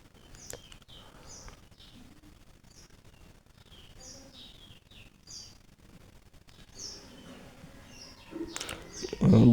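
A flock of about 160 twenty-five-day-old Japanese quail chicks chirps in a small farm shed, with scattered, fairly faint high peeps recurring throughout, followed by a louder thump at the end.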